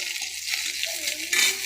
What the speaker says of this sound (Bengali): কড়াইয়ে গোটা জিরে তেজপাতা আর কাঁচা লঙ্কা দিয়ে দিয়েছি